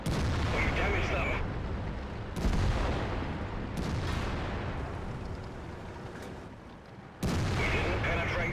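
Tank cannon fire in the video game World of Tanks, from a Tortoise: several heavy, booming blasts a few seconds apart, each with a rumbling tail over constant battle noise.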